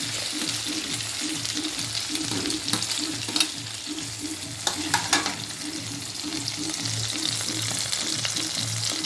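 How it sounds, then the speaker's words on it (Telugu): Chopped tomatoes simmering and frying in a pan, a steady soft sizzle and bubbling with occasional stirring knocks, over a low, regularly pulsing hum in the background. "ఇప్పుడు ఇందులో మనం టమోటా వేసుకొని కొంచెంసేపు ఉడకనిచ్చుకున్నామండి."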